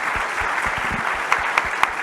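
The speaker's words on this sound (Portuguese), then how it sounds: "uma salva de palmas para os painelistas desse painel" Conference audience at a fintech event applauding panelists after a session, dense continuous clapping close by with a few sharper individual claps standing out near the end.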